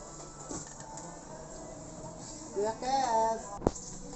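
An Epson L3110 inkjet printer runs its head cleaning cycle, giving a low mechanical whir and soft hum with a brief rising motor whine and a sharp click near the end, heard close and fairly quiet.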